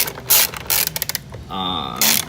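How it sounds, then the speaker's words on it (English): Ratchet wrench working a 10 mm bolt off a 2018 Honda Grom, close rapid clicking bursts of the pawl between short mechanical scrapes and a brief whirring spin. "I'm gonna do a 10 millimeter, get that bad boy off."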